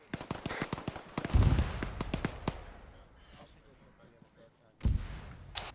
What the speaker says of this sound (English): That's fucking mortars or IDF landing behind us on the other side of the MSR